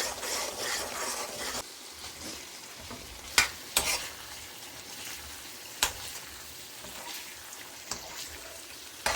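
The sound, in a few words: roasting pepper, cumin and coriander in pan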